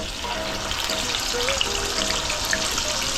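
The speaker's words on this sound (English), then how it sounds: "I'm gonna fry the kingfish over here" Kingfish fries in a pan with a steady, dense sizzle and crackle that holds at an even level throughout, with no voices.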